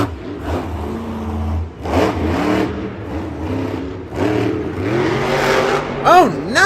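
A monster truck engine revving hard in a stadium at Monster Jam Detroit 2022, with loud repeated surges and pitch swoops under excited commentary and crowd noise.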